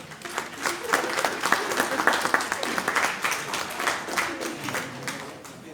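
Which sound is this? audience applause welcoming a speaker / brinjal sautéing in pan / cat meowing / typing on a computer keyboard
audience applause welcoming a speaker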